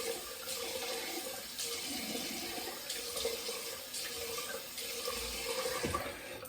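A razor with Sputnik blades is rinsed under a running tap, giving a steady close splash of water with the soft knocks of the razor against the sink, and no voices.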